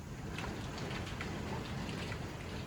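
Cream and cheese Alfredo sauce crackling on a stovetop, a dense, even sizzle like steady rainfall that stays loud and unbroken throughout, with no talking.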